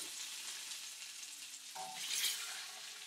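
Pork browning in a very hot pan gives a steady sizzle throughout, with a brighter surge partway through as a piece is turned with tongs. No voices.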